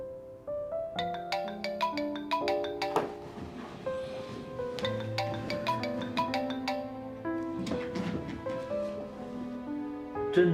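An incoming call's phone ringtone plays a bright melodic tune in repeating phrases of quick notes, clear and fairly close, with no voices over it.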